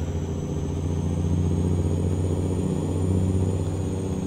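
Marmon cabover truck engine idling steadily in a video game, hauling wheat, with a low, even rumble and a faint high whine held throughout, close and constant without talk.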